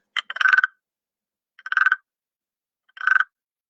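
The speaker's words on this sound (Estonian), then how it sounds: "See on konn." A frog croaks three times in short rattling bursts, evenly spaced about 1.3 seconds apart, close and clear against silence.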